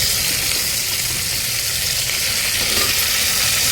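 Cauliflower stalks and taro go into a hot pan with onions and oil, giving a loud, continuous sizzle with faint stirring underneath.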